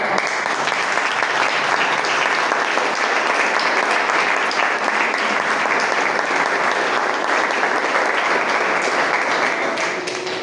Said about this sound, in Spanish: Se le va a aplaudir.